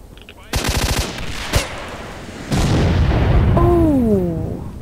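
Gunfire in the video game S.T.A.L.K.E.R. Shadow of Chernobyl: a rapid automatic burst, a single sharp shot, then a heavy blast with rumbling tail and a rising whine, loud and close, no talking.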